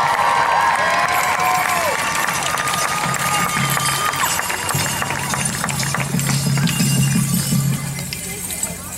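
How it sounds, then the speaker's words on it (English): Audience applause and cheers in an outdoor crowd after a White Mountain Apache girl's dance performance, dense steady clapping mixed with whoops and crowd noise that thins slightly toward the end. "our Miss White Mountain Apache Shasta Daisen a big round of applause for dancing for us here tonight"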